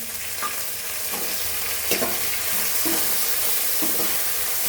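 Curry leaf powder ingredients fry in a little oil, a loud continuous sizzle close by with repeated scraping strokes of a stirring spoon.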